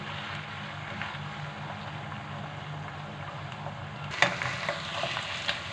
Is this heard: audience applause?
no